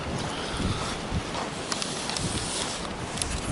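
Strong wind buffeting the microphone in a continuous rushing roar outdoors while walking, with a few faint clicks and no clear talk.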